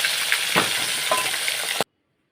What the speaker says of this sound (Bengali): আস্তে আস্তে মাছগুলো সব কটি ভেজে নেব